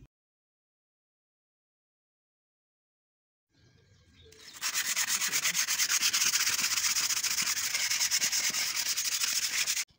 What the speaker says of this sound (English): I'm starting off by removing bits of the rust with a sandpaper